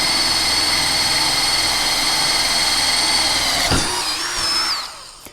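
A Dewalt Atomic 20V brushless drill bores a 1/2 inch hole into Philippine mahogany hardwood, a loud, steady high whine that runs close and alone for about four seconds, wavers, then winds down and stops.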